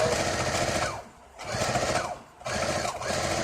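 A sewing machine stitches down a pillowcase seam in loud, fast mechanical bursts, pausing briefly twice between runs.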